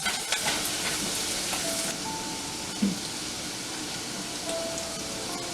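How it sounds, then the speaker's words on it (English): Vegetables sautéing in a pan on medium heat for a chickpea curry, a steady soft sizzle and crackle running throughout with an occasional faint stir or clink, fairly close and without talk. "Just saute it for like 1 to 2 minutes"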